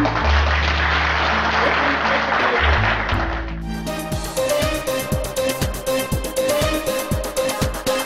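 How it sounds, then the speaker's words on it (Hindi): Loud audience applause rises to welcome a visiting teacher at a seminar in Shimla, dense clapping joined by rhythmic drum or music beats that take over partway through. "तो जोरदार तालियों के बीच में हम"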